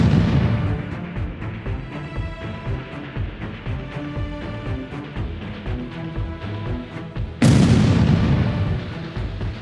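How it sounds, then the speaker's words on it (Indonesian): Rapid gunfire and booming blasts fill an animated battle against an army of monsters, a dense continuous barrage with a sharper, louder explosion near the end. "Rasakan tembakan kami."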